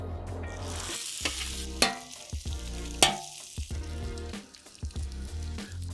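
Bacon and eggs frying on a Blackstone outdoor flat-top griddle, with a steady close sizzle throughout and occasional sharp scrapes and taps of a spatula on the griddle surface.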